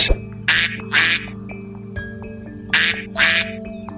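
Loud duck quacks in short bursts, two pairs of harsh calls separated by brief pauses, with a steady tonal hum underneath.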